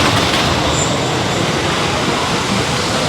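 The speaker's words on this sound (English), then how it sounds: "And there's one of the trains." A roller coaster train at Dollywood rushes past in a steady, loud roar with a rumbling, rattling quality and no pauses.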